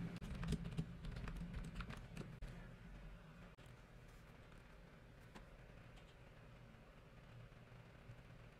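Quiet, rapid tapping on a computer keyboard as a question is typed, clustered keystrokes early then sparser clicks over a low steady background hum.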